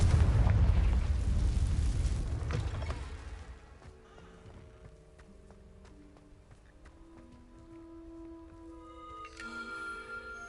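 A loud Confringo spell explosion from the video game Hogwarts Legacy opens with a rumbling blast that fades over about three seconds, leaving quieter chiming, tinkling game sounds and a faint later swell.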